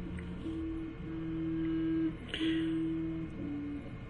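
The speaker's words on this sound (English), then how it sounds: "You can actually maybe able to pick up in the background the 3D printer actually printing this part" A 3D printer printing a part hums faintly in the background, its stepper motors whining in sustained tones that switch pitch every second or so, with no talk over it.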